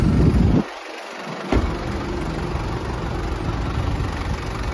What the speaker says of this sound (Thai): ลองมาฟังเสียงเครื่องยนต์กันนะฮะ